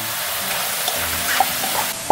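King oyster mushrooms stir-frying over high heat in a pan, a steady close sizzle with a few sharp spatula clicks and scrapes, no voices.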